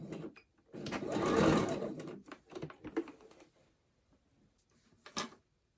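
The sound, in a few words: sewing machine stitching a tote bag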